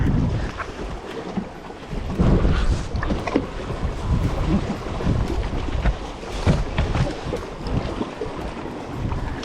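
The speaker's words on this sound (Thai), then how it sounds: "คือลมแรงนะครับ" Strong wind buffets a fishing boat out at sea, roaring and gusting steadily against the microphone with rumbling low surges and splashy bursts from the water and hull, loud throughout.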